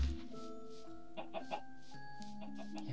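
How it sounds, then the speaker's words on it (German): Chickens clucking in a video game, several short bird calls and clucks scattered over steady game music, fairly close and moderately loud with no talking. "Hühner hier."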